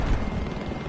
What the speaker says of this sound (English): Listen up! Enemy helicopter, south of your current state!